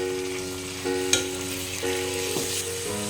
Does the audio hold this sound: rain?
no